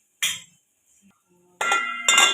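A metal lid is set onto a cooking pot of chicken biryani, giving a bright clink, a brief lull, then two ringing metallic clatters with a lingering tonal shimmer, close and clear.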